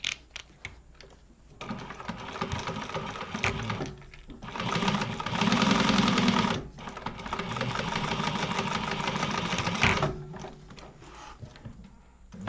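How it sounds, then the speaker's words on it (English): A sewing machine runs a 1/8-inch top stitch along zipper tape on a wallet, with bursts of steady motor whir separated by short pauses, loud and close, no talk. "we're going to go along here with a 1/8 of an inch top stitch along the zipper tape"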